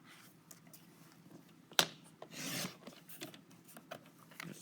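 Paper is cut on a trimmer: a sharp snap of the blade is followed by a soft rasping slide, along with faint scattered rustling of the paper nearby.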